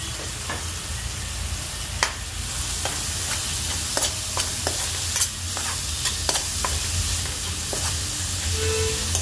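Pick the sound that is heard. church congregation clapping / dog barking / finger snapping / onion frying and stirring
onion frying and stirring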